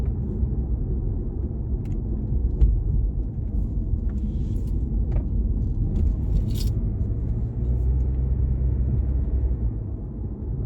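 A car cruising through a residential neighborhood in Frisco, Texas, with a steady low road and engine rumble heard from inside, plus a few faint clicks and light scrapes over it.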